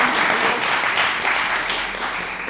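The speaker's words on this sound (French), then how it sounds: "On peut les applaudir quand même bien fort." Audience at a magic and mentalism show applauding loudly and steadily, a dense even wash of many hands clapping with no speech over it.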